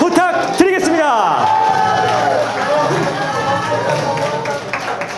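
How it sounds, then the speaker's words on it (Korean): Guests at a first birthday party applaud together, a dense burst of clapping mixed with crowd noise and an announcer's voice over it. "여러분 큰 박수 부탁드리겠습니다"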